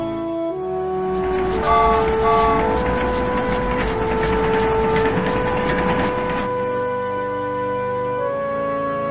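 Cartoon trains running through forests in the 1995 PC game Nikolai's Trains, a steady mechanical chugging with tonal whistle-like notes over a continuous hum, swelling in the middle and easing off toward the end.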